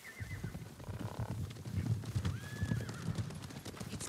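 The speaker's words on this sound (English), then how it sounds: "Horses, they're coming for us." Horses' hooves clopping in a steady galloping rhythm with whinnies over the top in Ghost of Tsushima, fairly close, against a busy game background.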